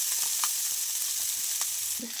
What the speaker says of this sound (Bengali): এখানে আলু ডিমগুলোকে ভাজছি